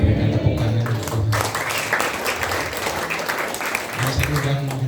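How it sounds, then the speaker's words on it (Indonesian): An Indonesian church congregation at a Sunday service breaks into applause for God, a broad rush of clapping hands between bursts of worship music and voices. "Berikan tepuk tangan untuk Tuhan"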